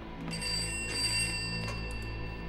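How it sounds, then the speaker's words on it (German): A telephone rings in the horror video game Pineview Drive, a faint, bright, continuous electronic ring with shimmering bell-like tones over a low hum. "hier klingeln Telefone"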